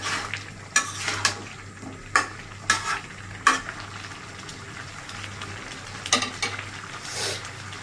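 Kalbaush fish going into a pan of sautéed vegetables, a steady sizzle and frying hiss broken by sharp clinks and scrapes of a utensil stirring against the pan, close and fairly quiet.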